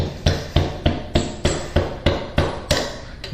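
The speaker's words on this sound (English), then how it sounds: "so let's take a rubber mallet" Rubber mallet blows driving the axle out of a Yamaha Warrior 1700 wheel through an extension, about eleven evenly spaced sharp knocks at a steady rhythm, close and loud.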